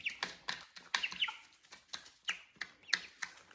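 A broody hen clucks softly among her chicks inside a chicken coop, giving short, uneven calls at close range with small scratchy rustles between them.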